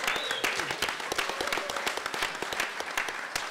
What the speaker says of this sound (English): Doreen Briones, give her a round of applause.